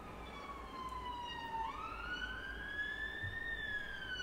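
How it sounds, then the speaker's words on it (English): An ambulance siren wails from outside in the city, distant and faint, its pitch slowly falling then rising again over a low hum of traffic. "An ambulance is heard from outside in the city."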